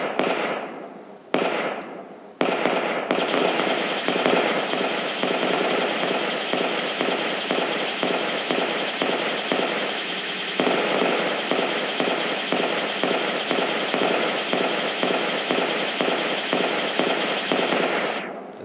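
Rapid-fire shooting at a boss in a GameSalad shoot 'em up game: a dense, continuous stream of fast repeated blasts that runs loud and steady for most of the stretch, with no talking.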